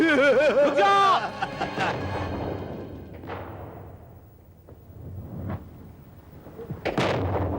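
Bomb explosion effects in a horror drama scene: several booming blasts, each trailing off in a decaying rumble, with a voice shouting at the start.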